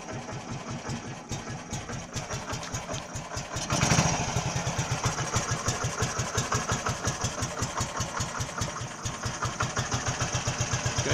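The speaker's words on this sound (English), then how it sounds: "I think it's a really nice idle, really smooth, and the engine is much more quiet" A cold 1961 Heinkel Tourist 103A2 scooter engine sputters, catches and settles into a steady, rapid idle, its even putt-putt rhythm close and moderately loud.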